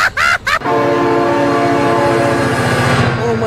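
A train in the BeamNG.drive video game blares a loud, sustained multi-tone horn after a couple of short blasts, very close and dominant, with a rhythmic rumbling clatter of wheels underneath.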